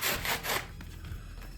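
A JB Weld epoxy package is pried and torn open by hand, giving scratchy plastic rubbing and scraping that is loudest in two quick bursts at the start, then a softer, steady rustle.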